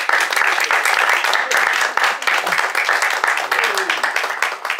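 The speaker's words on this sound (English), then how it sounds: "So give a round of applause, please, for Taker." Audience applause at a book launch reading event in Edinburgh, a dense steady wash of clapping from a roomful of people lasting about five seconds, fairly close and loud.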